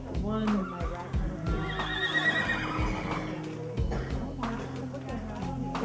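Rescued horses being rehabilitated by the Humane Society of Missouri whinny loudly and repeatedly, with some hoof clip-clop, while people talk nearby.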